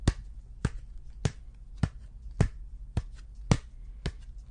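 Hands tap out Foley-style footsteps in imitation of a wrestler walking down the aisle, eight sharp, evenly spaced slaps about every half second, close and dry with no talk.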